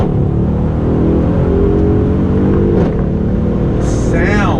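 The 5.5-liter bi-turbo V8 of a 2018 Mercedes-AMG GLE 63 S Coupe rumbles and revs up with a deep growl, close by, with a brief higher whine near the end.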